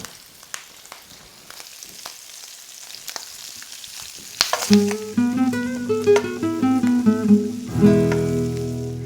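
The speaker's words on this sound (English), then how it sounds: "we'll just stir this around until the onions are caramelized and the pork is nicely browned" Sliced onions and pork frying in a pan while being stirred, a steady close sizzle with soft scraping, turning louder and busier over the second half, where a pitched tone also sounds alongside.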